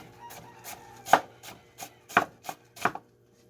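Half an onion being chopped with a knife on a cutting board, about eight crisp close knocks in an uneven rhythm, the louder strikes standing out against a quiet background.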